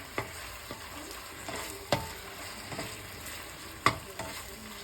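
Sausage pasta cooks in a very hot pan with a faint sizzle under it, while a utensil scrapes and knocks against the pan in a few sharp, irregular clicks.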